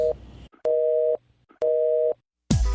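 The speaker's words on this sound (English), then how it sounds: "Busy signal." A telephone busy signal: short steady tone pulses repeating in an even on-off rhythm, clear and close, cut off by a burst of noise at the end.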